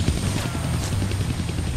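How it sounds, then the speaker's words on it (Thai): A helicopter in the Deadpool video game gives off a continuous, loud rotor thrum with broadband whooshing. It holds steady and close throughout, with no speech over it. "โอเครู้สึกว่าเฮลิคอปเตอร์จะเปลี่ยนที่ใช่ไหม"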